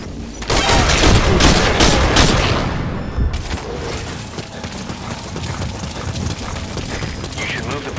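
Gunfire in the video game Metal Gear Solid V Ground Zeroes, a dense burst of rapid shots up front that fades into a sustained rumbling wash of distant fire and ambience.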